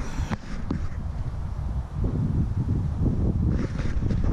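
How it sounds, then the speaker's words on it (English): Gusts of wind buffet the microphone beside a Pelican Bounty 100 angler kayak at a park on a windy day, a low roaring rumble that swells and eases, with no talk. "Yes, it's gonna be a windy day"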